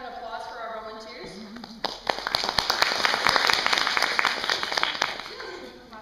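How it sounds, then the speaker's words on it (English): Audience applause for volunteers at a coffee lecture swells after a spoken lead-in, a scattered patter of claps building to a fuller wash before fading, with people talking over the start and end. "Can we have an applause for our volunteers?"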